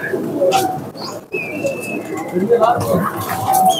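Teddy pigeons, broad-chested result birds, cooing and calling repeatedly in a noisy loft, with someone talking over the birds throughout and a brief break near the middle.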